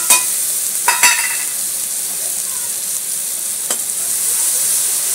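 Masala with tomato and green chilli sautés in a pan, sending out a steady loud sizzle with a few sharp scraping stirs of the spoon, close up.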